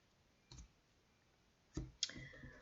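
A deck of tarot cards being cut: three short, crisp clicks of card on card, the first one isolated and the last two in quick succession, close and quiet.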